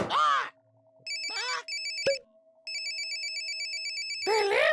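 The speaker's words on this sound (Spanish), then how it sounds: "Teléfono!" An electronic telephone ringtone trills in repeated bursts with short gaps, joined by a steady tone and a sharp click, while a cartoon parrot's voice squawks at the start and end.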